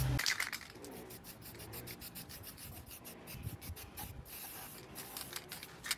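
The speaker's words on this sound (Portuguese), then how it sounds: "vou dar, ó, uma demãozinha bem caprichada aqui desse spray da cor preta" Black spray paint hissing from an aerosol can onto a decorative craft piece, a steady close broadband spray with short repeated bursts and no talking.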